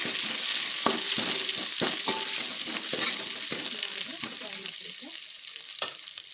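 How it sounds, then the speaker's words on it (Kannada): Greens for soppina saaru sizzle steadily in a hot pan while a utensil scrapes and knocks against it every second or so, fairly close, with no talking. "ನೋಡಿ, ಚೆನ್ನಾಗಿ ಫ್ರೈ ಆಗಬೇಕು"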